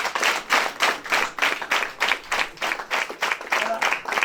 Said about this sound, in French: Applaudissez en français.